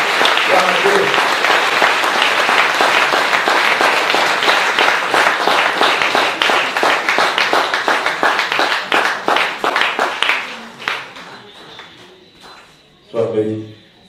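A church congregation applauds loudly and steadily, the clapping thinning out into scattered claps before a short final burst, with voices heard faintly underneath.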